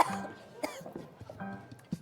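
Several people in a TV studio cough harshly and repeatedly after eating extremely spicy food. The coughs come in close, uneven bursts, some overlapping, with faint throat noises between them.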